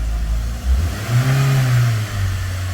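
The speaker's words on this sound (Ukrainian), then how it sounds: "Даємо обертів, без проблем скидує." A Skoda Octavia 1.6 BFQ petrol engine with an overheating fault revved at idle, close and loud, rising in two quick surges and then dropping back smoothly to a steady idle hum.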